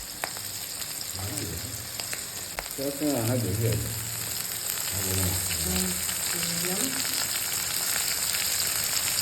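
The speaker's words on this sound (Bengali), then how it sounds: "এবার বাকি মাছগুলো ভাজা হবে ভালো করে মাছ ভাজা হয়ে গেছে" Fish pieces fry in a pan with a constant, close sizzling hiss, while people talk intermittently over it.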